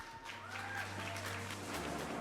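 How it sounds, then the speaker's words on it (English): Audience applause rises and holds steady to welcome two speakers onto the stage at a business talk, a dense, even patter of many clapping hands with a low steady hum beneath. "So give them a massive round of applause, everyone."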